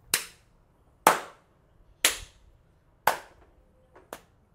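Five sharp hand claps spaced about a second apart, loud and close, with a small softer clap just before the last one, in an otherwise quiet room with no talking.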